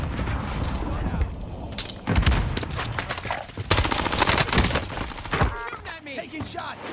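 Dense automatic gunfire from Call of Duty: Warzone rattles in loud, overlapping bursts with booms and mechanical clatter, while players talk over the battle.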